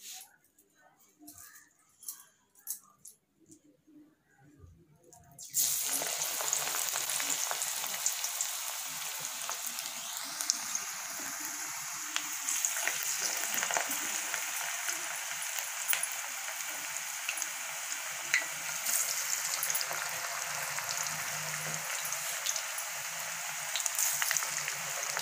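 Onion pakoda sizzles loudly in hot oil, a steady broadband frying hiss that starts abruptly after a few quiet seconds and carries on continuously, with faint background sounds beneath.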